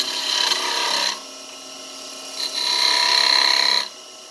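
Skew chisel cutting wood on a lathe while turning a hat, used like a scraper: a close, steady whine of the tool on spinning wood in two bursts separated by a brief quieter gap.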